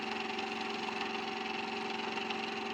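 An electric motor under precise photoemitter current control runs steadily, a continuous tonal whir and hum with no change in level, close and with no talking.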